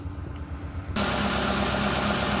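A big car engine, mated to a front-wheel-drive transmission, idles in its open engine compartment, a steady low rumble that suddenly gets louder about a second in, with no talk.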